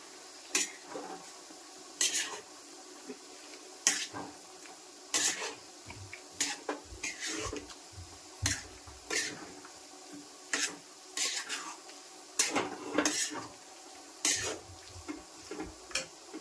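Chicken being stirred in a cooking pan with a utensil, giving repeated sharp scraping and clinking strokes at an irregular rhythm over a faint background.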